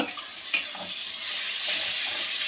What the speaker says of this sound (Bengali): মশলাটাকে আমি একটু করে ভালো করে কষাই।